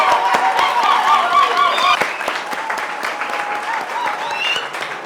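An audience at a televised beauty casting final in Douala applauds, dense clapping with some cheering and a voice over it, loud at first and then easing to a steadier, softer clatter.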